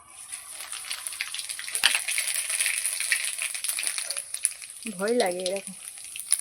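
Ground green and dried chili paste dropped into hot oil while cooking koi fish, a brief crackling sizzle and spatter close by, followed by a short spoken remark near the end.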